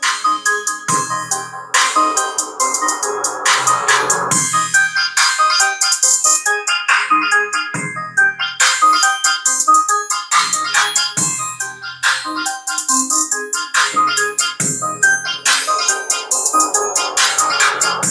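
Loud, dense music with a bright, punchy mix and strong treble, playing continuously through B2 Audio RIOT6.1 component car speakers on a 100-watt four-channel amp, with rhythmic hits and no talking.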